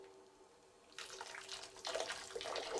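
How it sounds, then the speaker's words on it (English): Hot water splashes onto wood for hot-water bending, starting about a second in after near silence and growing into a louder, irregular gush. "Hot water is poured onto the wood."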